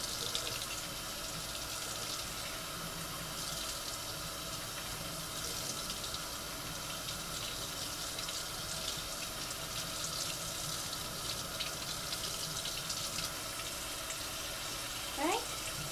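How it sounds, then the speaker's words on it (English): Water runs steadily from a tap while hands and arms are rinsed, a soft continuous splashing hiss with a brief louder splash near the end. "So when I'm rinsing, I want to make sure to let the water run down"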